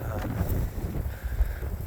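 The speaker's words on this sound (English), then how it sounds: "it's a cold, windy day" Steady gusting wind on a cold day buffets the microphone with a low, continuous rumble.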